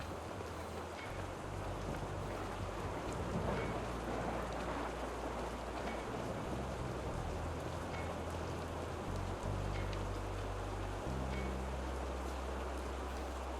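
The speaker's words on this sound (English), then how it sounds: "The rain washes it all away, and for a moment you feel clean" Rain in the video game Rue Valley, a steady hiss of falling drops on surfaces with low rumbling underneath, continuous and fairly soft throughout with no voices.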